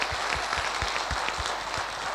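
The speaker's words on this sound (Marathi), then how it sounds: "सरांसाठी एकदा जोरदार टाळ्या झाल्या पाहिजे." An audience claps for an honoured guest at a talk, a quiet, distant, continuous patter of hands with a few softer thumps scattered through it.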